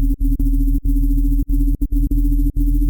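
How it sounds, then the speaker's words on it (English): A fluttering synth bass built in Serum, started from a sine wave with a redrawn wavetable. A steady low tone is chopped by sharp dropouts into an uneven stutter and plays loud and alone. "Then I have this fluttering bass in here."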